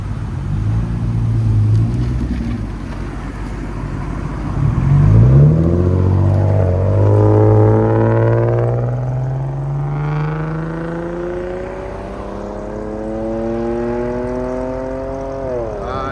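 A 2005 Lexus GS 300 with a 3.0L inline-six, rear muffler delete and Vibrant resonators revs loudly and close, its exhaust note climbing in pitch with several rising sweeps before easing off into a steady drone.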